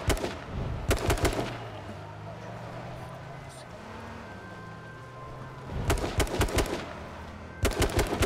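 Bursts of rapid automatic gunfire in the video game H1Z1, loud close clusters at the start and again near the end, with a quieter stretch of low rumbling in between.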